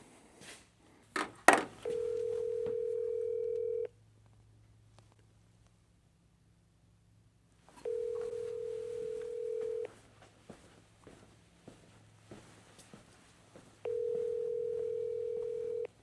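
A phone call rings through on a handset: three long steady ringback tones, each about two seconds, spaced several seconds apart after a brief clatter of button taps, with quiet room noise between.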